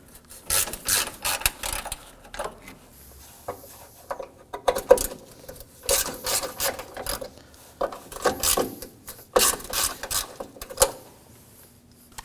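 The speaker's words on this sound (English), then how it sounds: "for that I'm going to be using a 10mm socket" A ratchet with a 10mm socket loosens bolts atop the radiator of a 2014-2020 Acura MDX, giving repeated bursts of clicking, rasping strokes with short pauses between them, close and fairly quiet.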